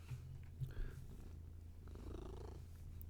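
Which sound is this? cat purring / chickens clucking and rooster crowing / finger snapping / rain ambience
cat purring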